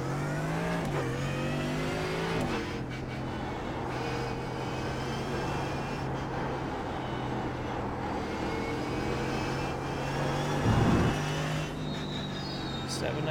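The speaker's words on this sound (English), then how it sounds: "There's a car coming" In iRacing at Lime Rock Park, a race car roars past with a steady engine drone that swells briefly near the end, heard beside a Mercedes AMG GT car's own engine, with no talk over it.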